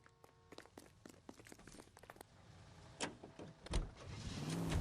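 Car being driven in the 1940s Los Angeles crime game L.A. Noire, with clicks and thumps of getting in, then a rising engine drone that grows steadily louder toward the end.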